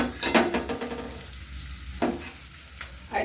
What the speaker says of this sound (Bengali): লঙ্কা কুচিটা দেবো আমরা খানিকক্ষণ দেবো তাহলে ভাজা হয়ে যাবে লঙ্কা